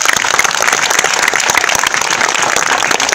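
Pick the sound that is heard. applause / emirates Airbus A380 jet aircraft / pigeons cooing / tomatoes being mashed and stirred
applause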